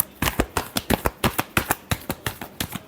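A deck of tarot cards is shuffled by hand, close up, in a steady run of about fifteen sharp papery snaps at an even, brisk rhythm, with no talking.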